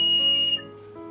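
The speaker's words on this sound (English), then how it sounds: "Whistle." A survival whistle is blown for signaling, giving one steady, shrill, close tone for about half a second before it cuts off, leaving quiet background.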